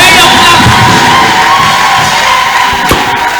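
A packed church congregation erupts in loud, sustained cheering and shouting, a dense wall of voices with whoops rising above it and a sharp clap-like burst near the end.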